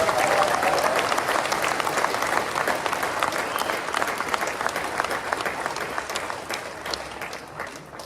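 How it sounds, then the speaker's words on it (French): A conference audience claps steadily and loudly for about eight seconds, a dense unbroken wash of hands that tapers slightly toward the end, with a brief voice near the start. "je vous demande de vous applaudir fortement aujourd'hui"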